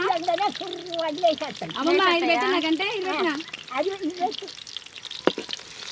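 Oil heating and frying in a pan for a village-style chicken curry gives a soft, continuous sizzle with occasional stirring clinks, mostly under a woman's close conversation.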